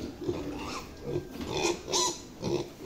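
Piglets grunt and oink close by in short, repeated bursts, with no voices over them.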